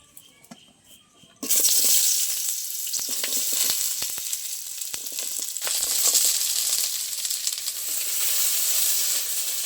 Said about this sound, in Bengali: কেটে রাখা পেঁয়াজ, আর এটা রঙের জন্য আমি দিয়েছি কাঁচা পাকা লঙ্কা, নিয়েছি 4টে কাজু বাদাম, আদা আর রসুন, সব একসাথে তেলের ওপরে দিয়ে দেবো।